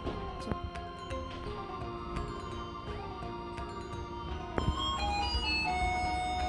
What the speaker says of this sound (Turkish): Aa, zil çalıyor ya.